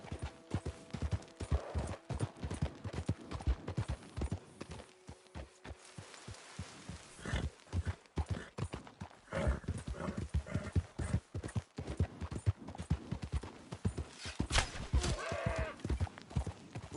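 Horse hooves clip-clop in a rhythmic gallop in the Red Dead Redemption video game, crisp repeated beats at moderate volume with a brief whinny-like sound and no talk over it.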